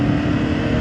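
A CFMOTO 750SR-S motorcycle engine gives a loud, steady, close-up burst under throttle, a short unbroken drone.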